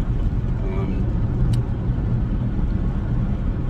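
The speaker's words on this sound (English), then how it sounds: "got the little crane truck, and I'm heading up the mountain way up into this logging track with a two-wheel drive truck" A small two-wheel-drive crane truck drives up a mountain logging track, its engine a continuous low rumble with road noise and a brief sharp clank midway; someone talks over it.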